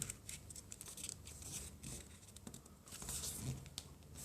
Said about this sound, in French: Hop, on va faire le premier pli.